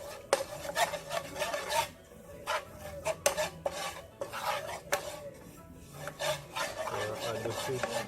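Curry powder scraped and stirred in a pot for Jamaican lionfish cook down, rasping strokes of a spoon against the metal in uneven bursts, close and fairly quiet with no talking.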